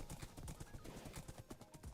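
A horse gallops in a blocky sandbox video game, giving a rapid, even run of hoof clip-clops, close and faint, with no one talking.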